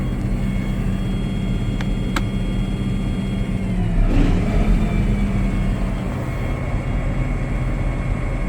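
A used John Deere triple mower's engine running, a loud, steady close drone with a swell in revs midway.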